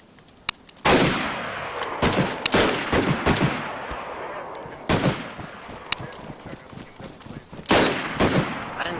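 Gunfire erupts in a DayZ video game firefight: scattered sharp shots and bursts crack loudly and close, with reverberant tails and distant echoes between them, over a steady noisy background.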